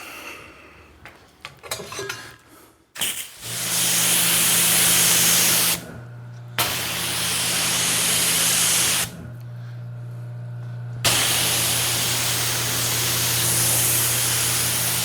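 A pressure-washer spray rinses soap off a GT4 car, roaring in loud, steady hissing bursts separated by brief pauses, after some faint clatter at the start.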